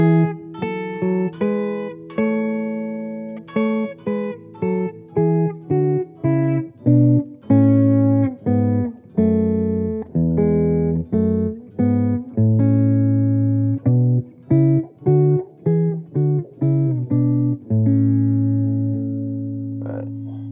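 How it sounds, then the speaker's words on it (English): A guitar plays a major scale harmonized in tenths, moving step by step in even, clear plucks with ringing sustain, building up then back down. "So if we harmonize each note by a third, by a tenth, it would sound something like this."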